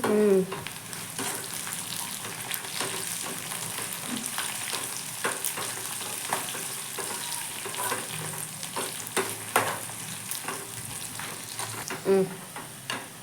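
Coriander and curry leaves fry in hot oil for a chutney, giving a continuous crackling sizzle with occasional stirring clatter throughout.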